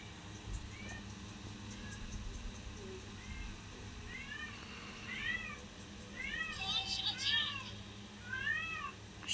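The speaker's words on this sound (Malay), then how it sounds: "Miau je dia." Several short, rising meows repeat in the middle and end of the clip, moderately close, over steady low rumbling background noise and faint voices.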